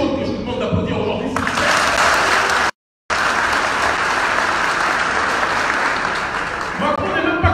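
Dense, sustained applause from a conference audience fills the room, broken by one brief silent gap before the clapping resumes just as strongly.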